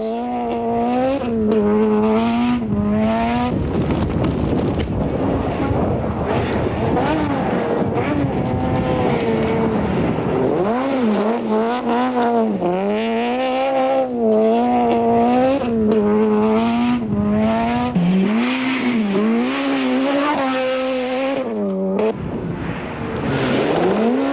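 Class C Toyota Conquest race cars battle closely on track, engines wailing and rising and falling through gear changes as several cars run nose to tail, loud and continuous with overlapping engine notes.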